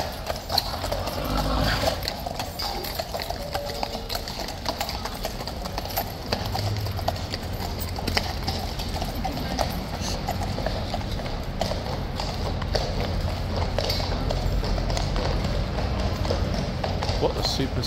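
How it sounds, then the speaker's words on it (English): Horse in a yard among tourists at a King's Guard post, making unusual snorting, growl-like nasal noises over a steady run of hoof clip-clops on hard ground, with people talking nearby throughout. "It's very unusual sounds from a horse."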